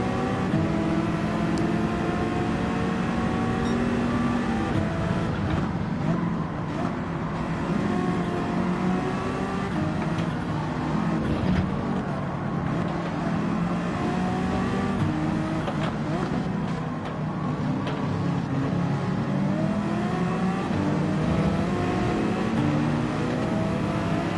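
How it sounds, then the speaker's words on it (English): Race car engines in the Gran Turismo 7 video game, a continuous dense drone of revving and shifting engines with rising and falling pitch sweeps, steady and moderately loud throughout with no talk. "Oh, Astral just dipping a tyre there onto the grass, almost losing it"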